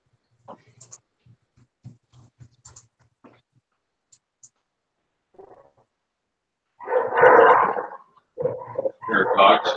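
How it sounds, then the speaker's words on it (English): Dogs bark loudly at close range in a couple of bursts toward the end, after quieter moments with faint thuds and scattered sounds. "There are dogs."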